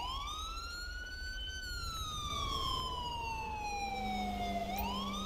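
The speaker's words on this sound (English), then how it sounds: "I'm going to show you that the automatic siren cutout works just fine." A police car siren in GTA V with the LSPDFR mod wails in long rising and falling sweeps, loud and close, then cuts to a quicker rising tone near the end over a low engine rumble.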